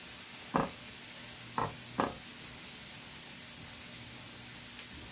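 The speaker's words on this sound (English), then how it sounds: "Sorry for all the sizzling in the background, but our burgers are going" Burgers sizzle in a pan with a faint, steady hiss, broken by three sharp knocks early on.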